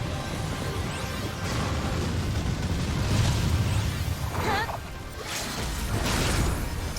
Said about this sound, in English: Alright, here comes the big explosion.